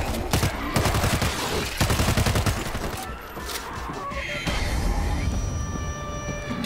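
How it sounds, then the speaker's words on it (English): Gunfire from the zombie shooter game World War Z fills the scene with rapid bursts and sustained volleys of shots, loud and dense, with brief pauses between flurries. "Apparently starting a gunshots were a really bad idea."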